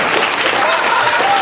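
Comedy club audience at Carolines applauds after a stand-up set ends, a dense steady wash of clapping filling the room for a moment with voices mixed in.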